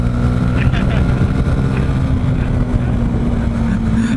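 A motorcycle engine drones steadily up close, its low rumble holding constant with faint voices talking underneath.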